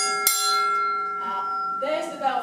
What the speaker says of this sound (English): There's the bell for end of break.